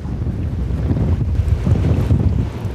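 Boat engine running out at sea off Cape Verde, a loud, rough low rumble mixed with wind buffeting the microphone and the wash of water, steady throughout and close, with no talking.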